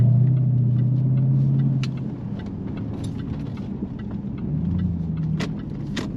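The supercharged 5-litre V8 of a Jaguar XF R hums low and steady while driving, with a deeper tone easing off after the first couple of seconds and light interior rattles and clicks over it.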